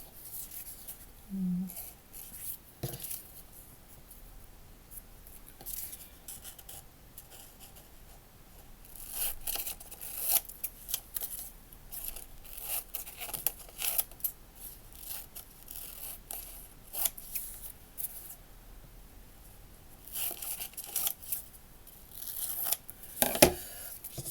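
Scissors snip out a paper filmstrip of photo negatives, a run of quiet, close crisp cuts and paper rustles recurring through the stretch with no talk.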